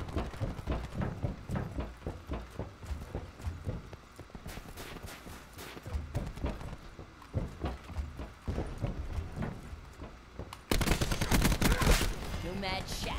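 Rapid, dense bursts of gunfire and explosions from a Black Ops 4 team deathmatch, including a devastating cluster grenade, come as loud repeated cracks and booms that end in a sustained roar of blasts.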